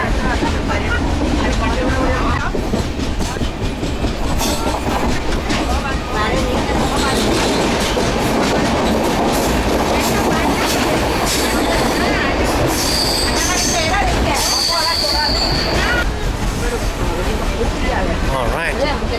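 A passenger train bound for Bangalore runs steadily on its rails, with loud continuous rumble, rhythmic wheel clatter and occasional high squeals of wheels, heard from inside the carriage with some background chatter.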